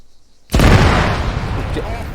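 Explosive charge detonated during explosives training, a sudden loud boom after a short quiet lead-in, followed by a long rumbling, crackling decay that stays strong to the end.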